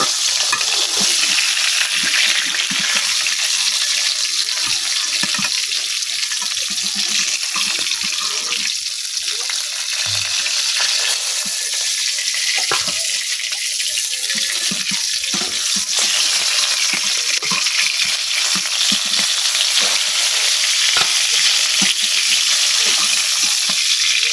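Small carp fish fry in a pan with a loud, dense, continuous sizzle that holds steady from start to finish, with occasional soft clinks.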